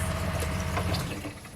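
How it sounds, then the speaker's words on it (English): A water pump pushes water through a camper van's plumbing, a steady, close hum with rushing flow that fades slightly toward the end. "We are running water!"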